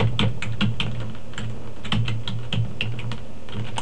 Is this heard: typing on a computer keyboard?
yes